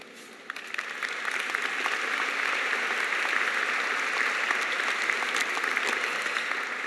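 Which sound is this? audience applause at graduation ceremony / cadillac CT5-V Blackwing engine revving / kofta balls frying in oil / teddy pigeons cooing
audience applause at graduation ceremony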